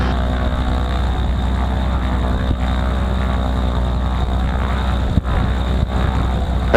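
A small propeller aircraft's engine runs at 1,000 RPM in a steady, loud, close-up drone that continues without pause.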